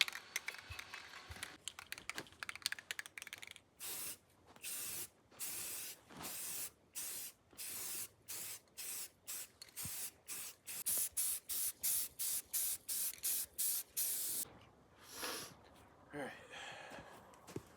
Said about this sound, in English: we're gonna hit it with primer first, and then we're gonna hit it with the black semi-gloss